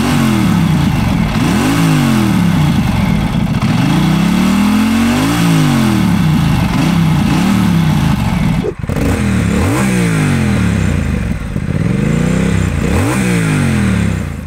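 A Norton Commando 961 parallel-twin motorcycle engine with a free-flowing exhaust, revved repeatedly and loudly up and down in rising and falling sweeps, close and continuous with a brief drop between revs and no talking.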